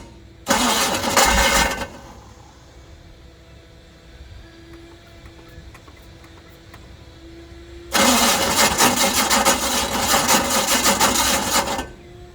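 A muscle car with a worn starter cranks and catches twice: a short start attempt, then a long stretch of engine running after a quiet pause, with a faint hum between.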